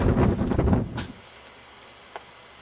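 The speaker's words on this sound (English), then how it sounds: "And we have a wind gust." A strong wind gust roars against the microphone during a snowy Connecticut winter storm, a loud buffeting rush that dies away after about a second into faint background noise with a light tick.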